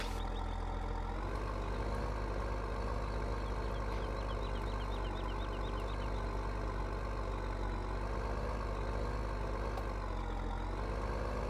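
A tractor engine drones without a break in a farming video game. The idle is loud, low and steady, with no talk over it.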